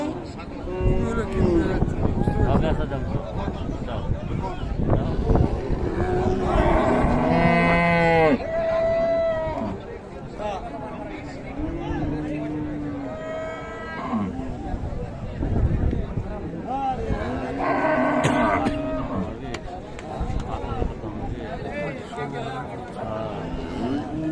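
Cattle moo repeatedly at the Raniganj cattle market in Dinajpur, with two long, loud lowing calls standing out amid near-constant talk and crowd chatter.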